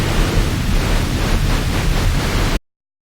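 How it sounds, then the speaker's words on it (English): Synthesized white noise shaped in a drum synthesis plugin, a loud, dense, steady hiss with a slightly wavering texture that cuts off abruptly into silence near the end. "this gives us some options to shape the white noise a little bit more than we would be able to in other plugins."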